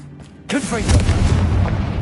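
A Confringo spell blast in Hogwarts Legacy lands as a sudden loud boom and then rumbles on, close and heavy, after a brief quiet start.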